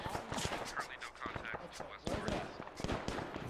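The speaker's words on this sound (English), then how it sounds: "It's coming up the road, it's firing over us." In Arma 3, an enemy vehicle fires rapid bursts of gunfire, faint and distant, with overlapping voices talking throughout.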